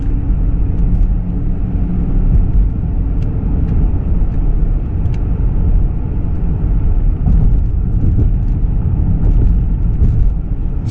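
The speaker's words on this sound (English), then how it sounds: "I just run it in regular drive and let the 8-speed go for itself" A 2026 Lincoln Corsair base model with an 8-speed automatic drives along in regular drive, giving a loud, continuous cabin rumble of road and engine noise with faint ticks and no speech.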